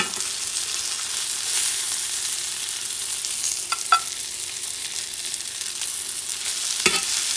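Onions sauté in a pan with a continuous soft sizzle, punctuated by a few utensil clinks and stirring scrapes, close and steady.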